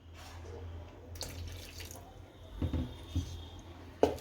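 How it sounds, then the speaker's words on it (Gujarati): A little water is poured onto Eno fruit salt while making khatiya (thali) dhokla batter in a home kitchen, giving faint, brief splashes and trickles with a few soft clinks near the end. "એના ઉપર થોડુંક પાણી નાખશું"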